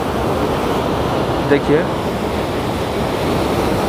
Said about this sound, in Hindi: यहाँ पर काफ़ी ज़्यादा एकदम से पानी नीचे आ रहा है गहराई में, यहाँ प्रेशर काफ़ी ज़्यादा है।